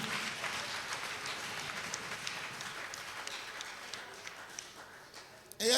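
At a Sunday church service, a congregation applauds and acclaims, producing a dense, sustained wash of clapping and cheering crowd noise that fades slightly toward the end before a sharp closing burst.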